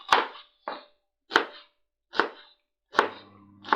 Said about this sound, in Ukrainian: цибульку. Тому наразі нарізаю дрібненько.